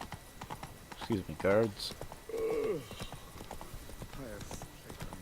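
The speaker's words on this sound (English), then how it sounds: "There's another random horse." Horse hooves clip-clop in a steady, close walking rhythm in The Witcher 3: Wild Hunt, Blood and Wine expansion, with a horse whinny and spoken game dialogue over them.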